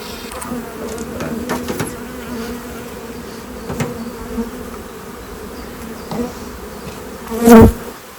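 A steady hum of honey bees buzzing around an opened hive during an inspection. The drone holds throughout, with one bee passing close and loud near the end.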